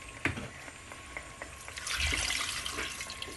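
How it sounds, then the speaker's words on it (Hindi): About 500 ml of water pours into a pot of turnips and meat for shalgam gosht, a close splashing trickle with a few small drips before the flow grows fuller midway, with no talk. "ये मैंने 500 ml पानी डाल दिया है"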